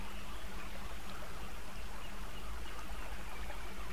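River water tumbles and breaks over the stones of a riverbed, a constant, even rushing hiss with no voices over it.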